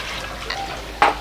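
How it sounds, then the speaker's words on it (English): Cold water splashes into a blender during mango drink preparation, a short liquid patter rising to one brief louder splash near the end, close and without talk. "I will add a little bit cold water"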